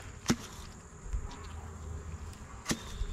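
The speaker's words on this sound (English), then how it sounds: "I'm going to shake these bees off." Honey bees are shaken off a comb during a horizontal hive inspection: two sharp knocks a couple of seconds apart over a faint insect buzz.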